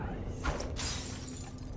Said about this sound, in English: I didn't want to throw it at that pillar. I'm out of glass to throw at things now.